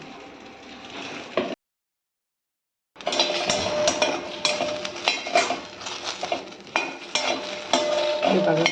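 Dry spices scrape and rustle in a pan under steady stirring while roasting, with metallic clinks of a utensil, broken by a brief silence before continuing.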